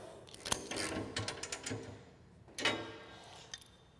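18mm nuts being tightened onto a UTV snow plow blade with a ratchet, a close series of quick mechanical clicks and ticks, fairly quiet, in two short bursts.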